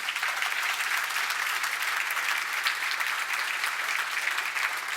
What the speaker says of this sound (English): please, hand of applause.